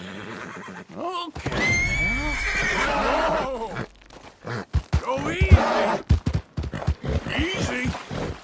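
A Nakota horse in Red Dead Redemption 2 lets out a loud, close whinny with a rising, quavering neigh, followed by someone talking over brief snorts and hoof sounds.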